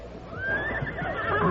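A horse whinnies in a close, rising and falling neigh, a sound effect from a Lone Ranger radio drama, with faint hoof clatter beneath.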